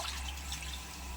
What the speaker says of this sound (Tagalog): At isang mangkok na tubig.